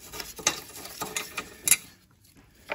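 A bolt being undone on a Citroen C3 battery tray, heard as a quiet series of irregular metallic clicks and ratchet ticks close up, with a brief silence near the end.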